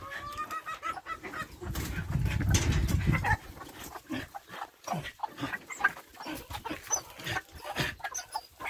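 Chickens clucking and calling around backyard garden chicken coops, with mixed-breed hens nearby and a dog and other farm-like animal sounds, busy and close with irregular bursts.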